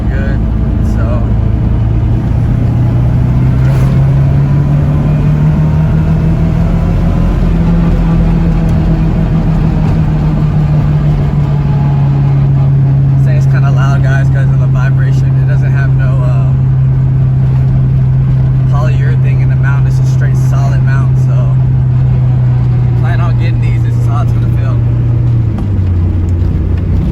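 A Toyota MR2 fitted with a Honda K24A engine on a test drive on a bumpy road, its engine droning loud and steady with a slow rise and fall in pitch and rattling from the cabin.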